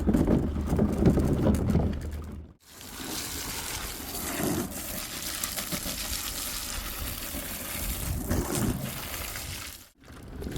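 Apples are rinsed under running tap water for cider making, giving continuous close splashing and hissing that drops out briefly twice before resuming.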